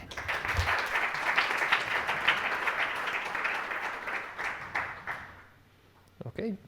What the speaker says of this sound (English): Let's give him another round of applause.